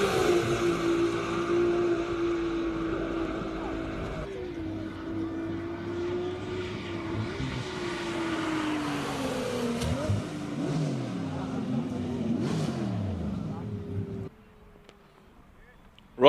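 A race car climbs a hill-climb course in Cape Town, its engine note rising and falling through gear changes as it moves away, with a commentator talking over it before the sound drops off near the end.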